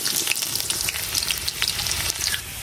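Whole garlic cloves fry in hot oil for a Netrokona-style hidol chutney, giving a dense, close, continuous sizzle and crackle.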